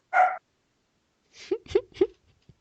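An excited dog barks in a short burst of three or four quick yelps after an earlier single vocal sound, close and fairly loud with no talk over it.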